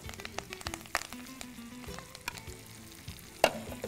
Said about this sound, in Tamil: நம்ம எண்ணெய் சூடாயிடுச்சு. கடுகு, கருவேப்பிலை, இதில் வெங்காயம்